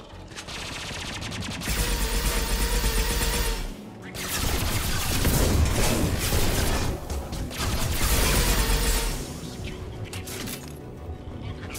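Sustained automatic gunfire from a Mass Effect Legendary Edition firefight, loud and dense bursts with brief pauses between volleys, crashing impacts mixed in.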